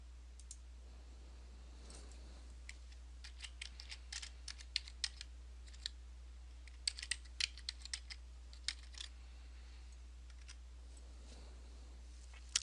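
Computer keyboard typing comes through close and fairly quiet as a connection name is entered, in scattered and irregular clicks of keys over a low steady hum, with no talking.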